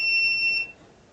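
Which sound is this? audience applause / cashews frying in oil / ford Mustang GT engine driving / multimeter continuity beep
multimeter continuity beep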